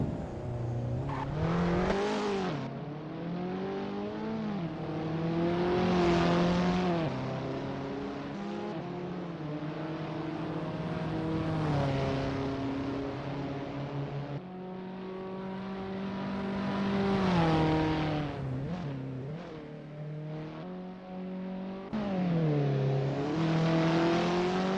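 An Abarth 500 racing car in the Assetto Corsa video game revs hard and steadily in a practice session, its engine note climbing and dropping through repeated gear changes and corners, loud and continuous with no talking.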